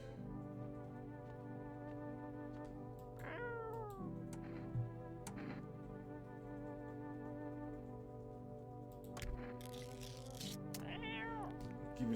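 Video game cat meowing several times over a steady, looping game soundscape, with distinct rising-and-falling cries near the start and again toward the end, no speech.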